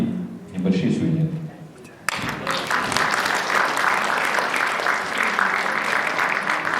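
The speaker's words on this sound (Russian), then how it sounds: "давайте аплодисментами теплыми праздничными присоединимся к этим замечательно сказанным словам" An audience at an anniversary gala evening breaks into sustained, warm applause right after a speaker stops talking, the dense clapping continuing steadily in a large hall.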